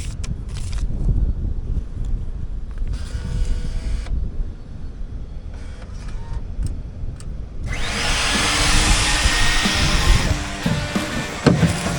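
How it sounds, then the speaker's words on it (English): A vacuum cleaner roars up to a loud, steady whine after a stretch of rustling and scraping, running close by while cleaning out a car. "I need to vacuum up all this stuff"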